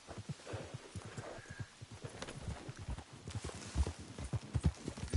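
Horse hooves clip-clopping in the video game Red Dead Redemption 2, a steady rhythmic series of soft thuds at walking pace, close and continuous over low ambience.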